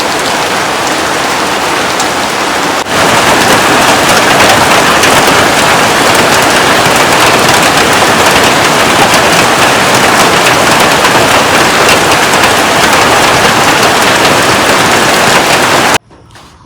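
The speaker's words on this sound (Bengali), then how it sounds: "যেরকম জোরে বৃষ্টি হচ্ছে না" Heavy morning rain pouring down steadily, a loud dense continuous hiss of drops on surfaces that swells stronger after a few seconds and then cuts off.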